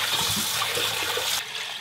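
Beef bones for Korean gomtang soup are rinsed under a steady, close rush of running water that suddenly drops away near the end of the short burst.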